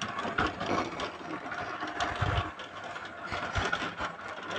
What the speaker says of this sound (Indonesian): Kita giling dengan kecepatan tinggi ya.